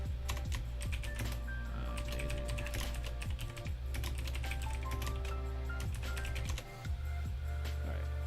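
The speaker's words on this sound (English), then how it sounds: "Sorry about the typing." Steady, close typing on a computer keyboard, a continuous run of quick clicking keystrokes with short pauses, heard on its own without talk.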